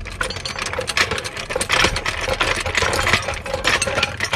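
Two steel floor jacks, one a Liftmaster 3T heavy duty ultra low profile model, pumped quickly side by side, a busy overlapping rattle of rapid mechanical clicks and clanks, loud and close.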